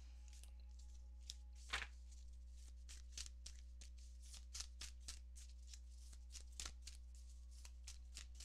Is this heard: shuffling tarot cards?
yes